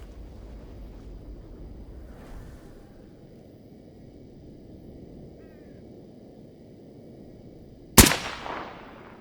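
Single loud, sharp gunshot from an upgraded rifle firing .338 Lapua rounds in Stalker Gamma, cracking out after a long stretch of quiet outdoor ambience and ringing off with a brief echoing tail.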